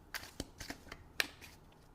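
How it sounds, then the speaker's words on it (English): Tarot cards being shuffled by hand, a run of soft riffling flicks and taps with one sharper snap near the middle, close and quiet with no talking. "I'm going to give them a good shuffle here for you."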